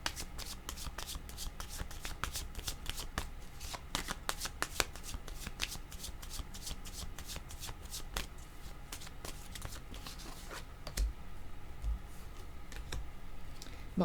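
A deck of tarot cards handled and drawn at close range, with a steady stream of crisp papery flicks and riffling clicks that continue throughout without speech.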